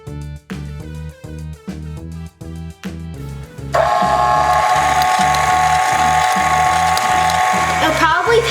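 Electric mixer beating vanilla cake batter, first a series of short clicking pulses, then running steadily and loudly up close for several seconds.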